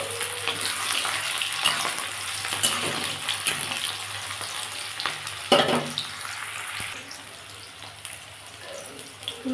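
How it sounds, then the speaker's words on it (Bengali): Onions sizzle steadily in hot oil in a pan while a cauliflower bharta is being cooked, a dense, continuous frying hiss with occasional scrapes and stirring clatter, close and fairly loud with no talking. "আমি তেলে এবার পেঁয়াজ দিয়ে দেবো।"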